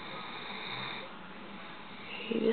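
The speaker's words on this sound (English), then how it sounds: "he's snoring" A pet dog curled up asleep snores softly and steadily at close range, a low breathy rasp that swells into a slightly louder snort near the end, with no talking.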